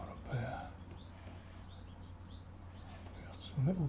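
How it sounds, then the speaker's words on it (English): Small birds chirp in short, faint bright calls against a low steady outdoor hum, with a person talking quietly in between. "We got some little birds."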